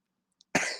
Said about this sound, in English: Coughs it all out, goes straight for a drink.